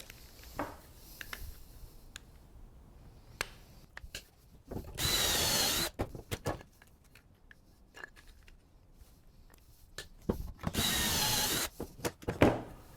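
A power drill boring pocket holes through wood held in a pocket-hole jig, two loud sustained whirring bursts about a second long, separated by quieter clicks and handling knocks from clamping and positioning.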